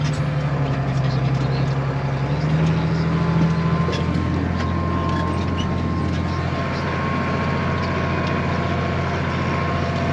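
A tractor hitched to a loaded manure spreader, cleaning out heifer pens, backs up with a steady loud engine drone, its pitch stepping up briefly early on, then holding an even, close-by rumble with no talk.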